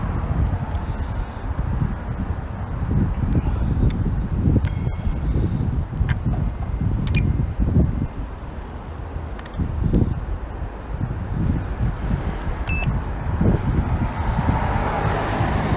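Gusts of wind buffet an outdoor microphone with low rumbling thumps that rise and fall throughout, joined by faint rustling and a few light clicks, with no one speaking.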